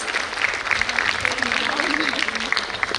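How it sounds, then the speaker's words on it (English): Audience clapping at a school basketball tournament ceremony, a continuous crowd applause with a voice talking over it, steady and fairly loud throughout. "Please give them a round of applause as we welcome them"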